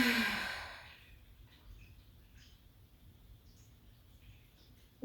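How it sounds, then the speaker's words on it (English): A loud, forceful exhale during a gentle floor-stretch breathing exercise, one breathy rush of air that fades within a second into quiet room tone. "Another loud exhale."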